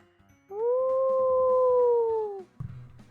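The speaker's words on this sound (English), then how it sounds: "out in the distance, hear a wolf howl" A single wolf howl carries from the distance at night, one long sustained, steady tone of about two seconds that rises slightly and then drops away, with faint background noise around it.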